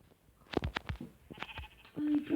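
A few quiet sheep bleats, short and wavering, like a game sound effect, with a soft tone at the end.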